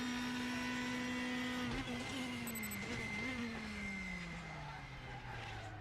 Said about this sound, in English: Proper screaming V8s.